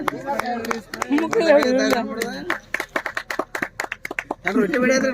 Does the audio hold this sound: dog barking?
no